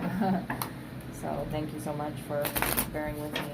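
A deck of tarot cards being reshuffled, giving soft riffling and slapping bursts throughout while someone talks over them at close range, with a small fan humming in the background.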